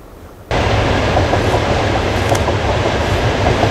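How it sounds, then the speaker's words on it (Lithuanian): A train rolls in, starting abruptly after a brief quiet moment and then holding a loud, close, steady rumble with clickety-clack wheel rhythm and faint squeals. "Atvažiuoja traukinys."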